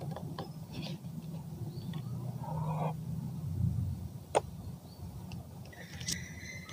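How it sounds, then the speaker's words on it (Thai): Folding out the radio antenna on a drone remote controller produces soft plastic rustling and scraping, with one sharp click near the end, quiet and close in an otherwise still room. "เดี๋ยวเราจะมากางเสาวิทยุนะ"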